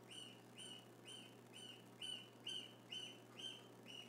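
A young gosling chirps from a back room in a steady series of high, evenly spaced peeps, about two per second, faint and distant over a low background hum.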